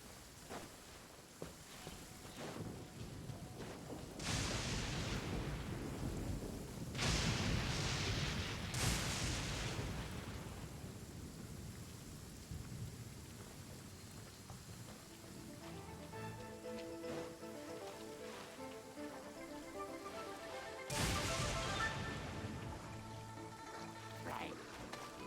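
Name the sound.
thunder from a nearby lightning storm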